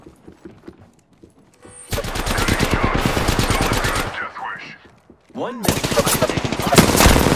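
Rapid automatic gunfire in the battle-royale game Apex Legends, loud sustained bursts of rattling shots with a short pause between volleys, and a voice speaks briefly before the firing starts.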